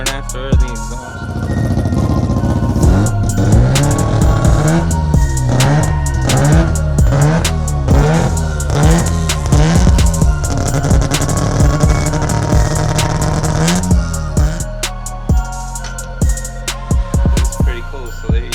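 A BMW M3 engine revs repeatedly in a garage, loud and close, with rhythmic rising and falling bursts and exhaust rumble through the middle, settling toward the end.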